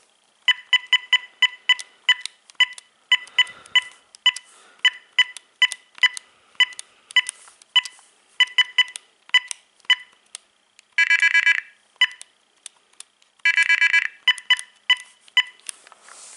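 An AT&T 9357 phone handset plays its ringtones as crisp, clipped electronic chirps in rapid rhythmic clusters, with two longer sustained warbling bursts near the end, all loud and close with no talking.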